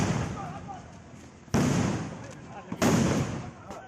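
Gunfire and hand-grenade blasts ring out during local poll violence in Kasmanda, Sitapur, Uttar Pradesh: two sharp, loud bangs a little over a second apart, each with a trailing rumble, over a busy background with people's voices.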